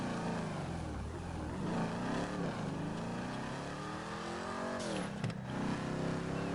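A new Ford Mustang cruises along a street, its engine note rising and falling through several revs and gear changes, heard close and steady from inside or near the car.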